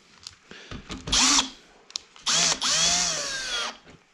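An electric drill whirs in two bursts, a short one and then a longer sustained run, with quiet handling clicks in between, during electrical work.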